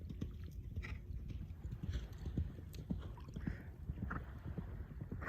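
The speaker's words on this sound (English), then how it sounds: "oh, there's a horse." Faint, steady hoof clip-clops from a horse, played at a moderate walking rhythm under a low, muffled background.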